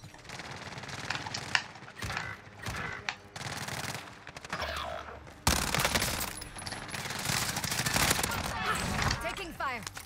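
Call of Duty: Warzone gunfire, with rapid automatic bursts and scattered single shots crackling throughout, growing denser and louder partway through, while voices talk over the shooting.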